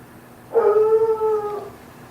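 A single dog lets out one long, rising then slowly fading howl lasting over a second, close and clear above a faint steady background hum.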